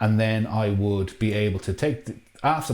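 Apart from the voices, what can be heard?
None of the usual background noises is heard.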